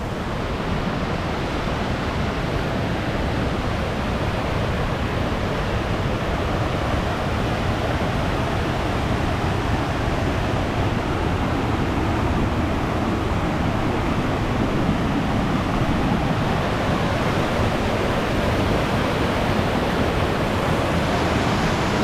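A waterfall in Muskoka roars continuously, a dense, steady rush of falling water that fills the whole stretch without pause.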